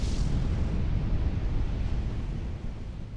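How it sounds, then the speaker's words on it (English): Deep, sustained roar of a volcanic eruption at Krakatoa, a loud rumbling wall of sound with churning low-end turbulence that continues steadily and eases slightly toward the end. "the first of 4 truly cataclysmic explosions occurred on Krakatoa. The volcano erupted"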